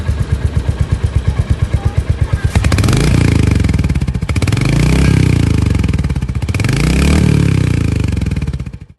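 Royal Enfield Hunter 350 motorcycle, first a steady close idling thump, then two loud revs of the exhaust that rise and fall, each swelling and dropping back, with no horn clearly standing out.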